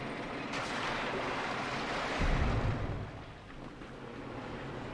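Rising water in the video game Limbo makes a continuous dense rushing wash with a brief low surge in the middle, steady and fairly quiet, with no talking.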